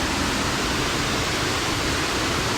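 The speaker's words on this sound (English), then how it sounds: "So we stopped for lunch at this gorgeous waterfall." Laurel Fork Falls, a waterfall on a hiking trail, heard as a loud, constant broadband roar of rushing water close by, unbroken and with no voices.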